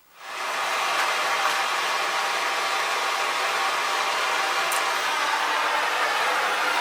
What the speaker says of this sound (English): Right, let's fire it up and let's get rid of this pipe.